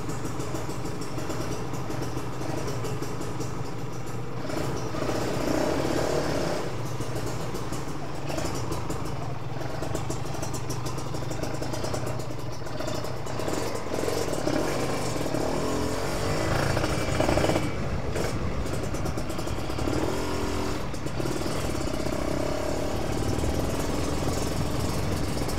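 Kawasaki Ninja RR two-stroke motorcycle engine with daily-use porting, running steadily and loud up close with a continuous rough idle-like drone and no talk over it.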